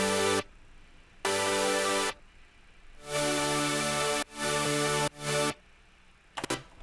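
Layered synth supersaw chords with an added noise layer play in bright, sustained blocks separated by short gaps, the hiss-filled stacks sounding full and close, with a brief flutter at the end.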